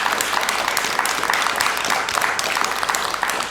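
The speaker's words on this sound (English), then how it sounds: "Would you give Bill a great big round of applause?" A crowd applauds Bill Armstrong at the Wrokdown event, a loud, continuous roar of clapping that stays dense and even throughout, with no speech over it.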